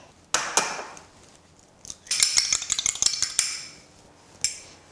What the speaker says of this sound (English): just a couple of slits through the pastry to let the air escape